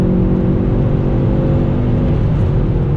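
On a racetrack, a 2019 VW GTI 2.0T DSG or a 2019 Hyundai Veloster N Performance Package accelerates with a loud, steady engine drone and layered harmonics that hold throughout, heard up close from inside the car with no talking.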